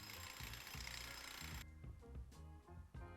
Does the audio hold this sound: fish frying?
no